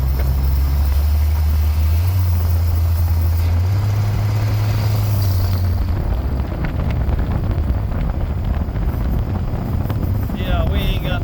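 An old Ford Fairmont, running again after 35 years and with barely working brakes, drives along in second gear. A loud engine drone shifts pitch partway through and gives way to heavy rumbling road and wind noise.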